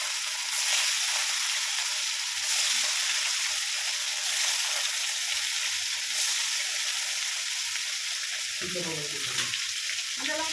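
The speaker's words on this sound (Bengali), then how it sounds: "মাছের মধ্যে হলুদ নুন মাখিয়ে এবার আমি এই কাতলা মাছটা ভেজে নিই" Katla fish rubbed with turmeric and salt frying in a pan, a steady bright crackling sizzle with a faint voice briefly near the end.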